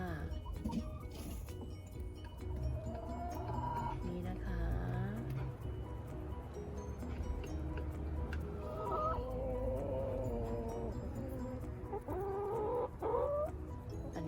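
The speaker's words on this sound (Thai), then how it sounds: "ไก่นะคะที่เราเลี้ยงไว้ค่ะทั้งหมดมี 8 ตัวค่ะ" A backyard flock of eight chickens cluck and murmur close by at their coop in an irregular chorus, with a few rising squawks, over a low background hum.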